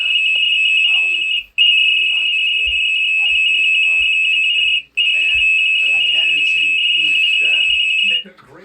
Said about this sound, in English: starts playing the sound that will send the data to the app